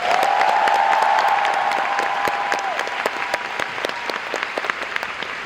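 A concert audience at the closing talk of the 2025 PalmTree Island show applauds, clear individual claps standing out over a steady crowd, with a held tone fading early on.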